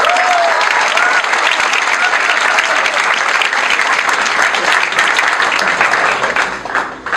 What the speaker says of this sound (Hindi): अरविंद के लिए ताली होनी चाहिए होता है।